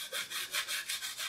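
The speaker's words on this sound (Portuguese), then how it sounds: "E vai de levinho começar a riscar aqui, ó, a madeira" A dry paintbrush loaded with pink paint scrapes lightly back and forth across demolition wood, a close, even rasping in about six quick strokes.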